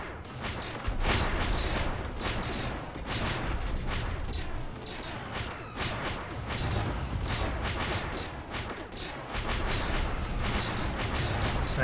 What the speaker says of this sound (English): And a torpedo salvo coming in.